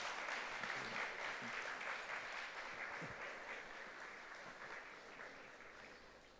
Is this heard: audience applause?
yes